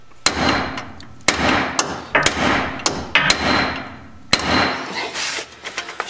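Sharp metal-on-metal hammer blows drive a punch against a front wheel bearing during removal, about eight loud irregular strikes spaced roughly half a second to a second apart, each ringing briefly, with no talk over them.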